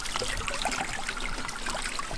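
Fresh natural water trickles down a chute into a container, producing a continuous, even splashing and dribbling wash at moderate volume without any voices.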